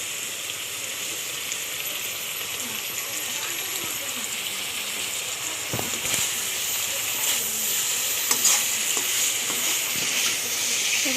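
Vegetables such as jackfruit seeds frying briefly in oil in a pan, a steady bright sizzle and hiss running throughout, growing slightly louder near the end with a few faint clinks.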